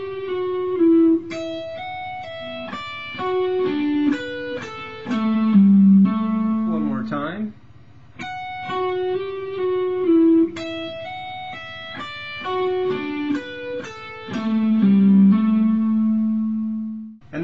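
Electric guitar plays a Canon in D phrase with pull-offs and hammer-ons, clear picked melodic notes with a brief strummed flourish midway, processed through effects with reverb, played alone without talk.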